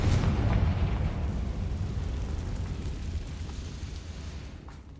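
A Bombarda spell explosion in the video game Hogwarts Legacy: a loud, dense rumbling blast that gradually fades over several seconds, with no talking.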